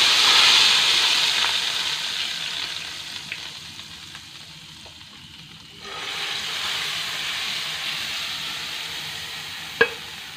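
Hot tempering is poured over cooked chickpeas for Lahori chicken chole and sizzles loudly at first. The hiss fades, then rises again as more hits the pan, and a sharp clink comes near the end.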